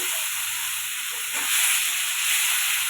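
Spices with Kashmiri chili powder fry in a pan with a loud, even hiss that swells slightly partway through.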